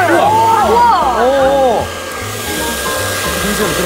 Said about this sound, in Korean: 그러면 여기에다가 드라이기를 한번 열어 볼게요.